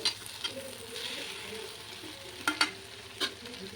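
Ingredients for urad dal and chana dal chutney sizzle softly in a pan while a spatula scrapes and clicks against the metal in a few quick, sharp strokes.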